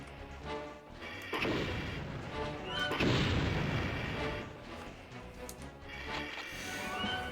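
Homing shots fired in the MDK game, several heavy booming blasts at irregular intervals, each followed by a crackling burst and a lingering rumble, fairly close.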